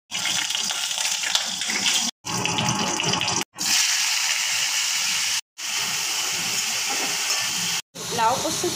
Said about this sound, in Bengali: পাট শাক ফুটছে